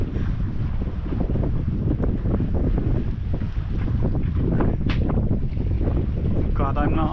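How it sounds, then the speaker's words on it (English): A busy party boat carrying some twenty to thirty people motors past on open water, its steady engine drone blending with heavy wind buffeting and water wash close by. "Look, here comes the party boat."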